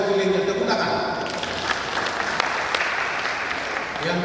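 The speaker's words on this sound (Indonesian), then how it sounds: "tepuk tangan" Applause from an audience at a Batak family year-opening prayer gathering, a steady dense wash of clapping running throughout, with a voice briefly carrying over it at the start.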